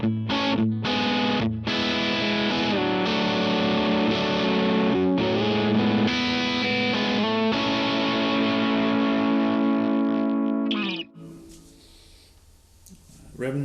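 Electric guitar on the bridge pickup with a low-gain, treble-boosted tone, playing loud sustained chords and picked notes for about eleven seconds before cutting off into near silence.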